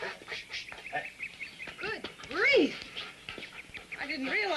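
A guard dog pants near a remote, isolated house, with quick rhythmic breaths and snuffles mixed in among people talking in a 1974 film scene.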